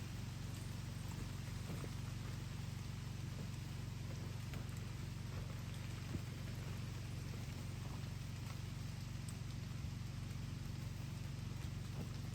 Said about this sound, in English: It's actually raining a bit right now.